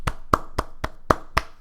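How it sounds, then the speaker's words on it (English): Six sharp, evenly spaced hand claps from a single person, close and dry, each a crisp isolated smack with short silences between. "let's give a round of applause to CA"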